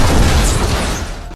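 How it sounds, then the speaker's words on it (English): A massive dynamite blast in a zombie horror film, adapted from a game, erupts as one loud, full-bodied boom that roars steadily for over a second and then cuts off abruptly. "The massive explosion destroyed the door."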